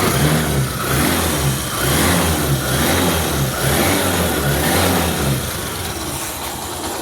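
Kick-started Yamaha YTX motorcycle engine running steadily: a smooth, even mid-range hum with a slight rhythmic pulse, close and fairly loud, easing down a little near the end.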